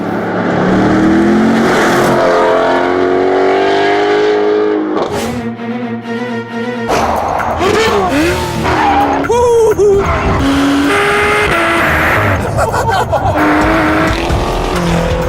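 Loud high-revving engines of a 505 hp Camaro Z28 and a 526 hp Mustang GT350R roar and scream with rising and falling pitch, a sharp gear-change break midway, and tires squealing throughout.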